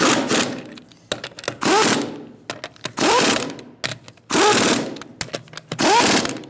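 A pneumatic impact wrench tightens the wheel lug nuts on a 2000-2007 Ford Taurus in a star pattern, delivering six loud hammering bursts of about half a second each, separated by short pauses and small clicks.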